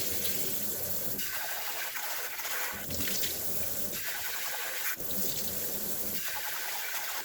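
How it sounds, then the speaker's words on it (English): White rice is rinsed under running water and the water poured off: gushing splashes come in repeated bursts with brief pauses between them, close and fairly quiet. "What I just have to do is rinse the rice and pour off the water until it's more clear."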